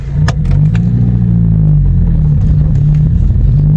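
A VW Golf GTI MK5 hatchback engine rumbles steadily and loud, pulling away with a low, continuous drone and a faint rev rising underneath.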